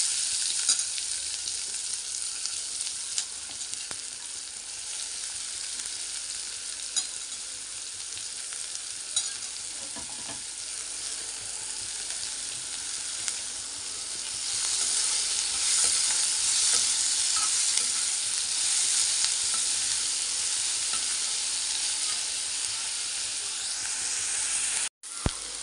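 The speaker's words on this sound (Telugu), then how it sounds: "ఇందులో ఉల్లిపాయలు, పచ్చిమిరపకాయలు వేసేద్దాం." Chopped onions and green chilies sizzle hard in hot oil with cumin, a constant close frying hiss that swells louder midway, broken by the occasional scrape of stirring.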